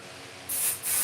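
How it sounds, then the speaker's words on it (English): Two short hissing bursts of temporary basting adhesive spray hit a piece of felt, the first lasting about a third of a second and the second following right after, close and crisp against a quiet room. "So I'm gonna use adhesive spray."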